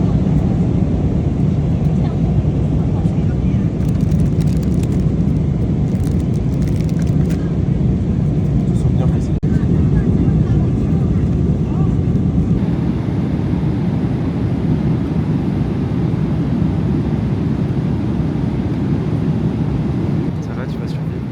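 An airliner takes off on a flight to Japan, heard from inside the cabin as a loud, steady, close broadband roar that holds through the whole stretch. Muffled voices may sit faintly beneath it.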